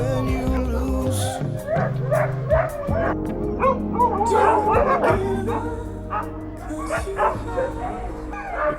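A crowd of sled dogs yips, barks and whimpers continuously beside trucks as mushers prepare sleds before a race prologue, lively and close, with music and talk underneath.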